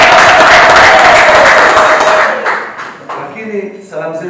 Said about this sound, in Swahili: Tumpigie makofi na kumshangilia.